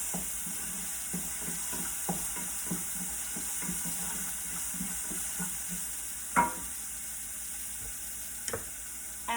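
Onions sauté in a hot pan, a steady sizzle underneath while a utensil stirs and scrapes them with repeated soft knocks and occasional louder clacks.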